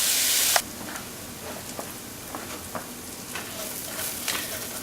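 Onion sautéing in a skillet with just a trace of leftover bacon grease, a steady soft sizzle broken by light scattered crackles and pops; a brief louder burst opens the moment before it settles.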